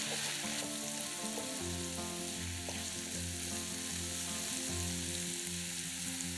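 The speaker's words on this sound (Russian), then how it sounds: "Обжариваем лук с грибами примерно 2-3 минуты." Chopped onion and mushrooms fry in vegetable oil, a steady, moderately loud sizzle with faint crackles, while a low tonal hum runs underneath throughout and nobody speaks.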